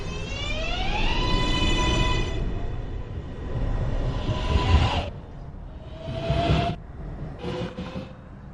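NYC Subway 2 train at 215th Street: motors whine upward as it accelerates away under a steady rumble of rolling cars, then the sound thins into a few fading whines and squeals.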